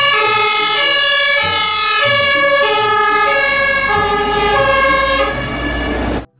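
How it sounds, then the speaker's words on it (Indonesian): A very large fire engine's siren wails loudly and steadily up close, its layered tones rising and falling without a break for about six seconds before cutting off abruptly. "Di sini ada mobil pemadam kebakaran super besar."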